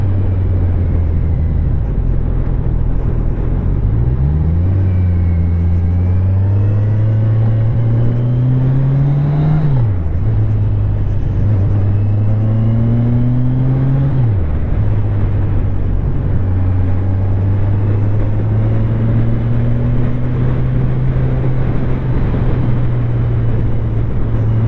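Kawasaki Ninja 1000 SX motorcycle being ridden, its engine droning steadily and close, with pitch climbing through rev rises around the gear changes, alone without voices.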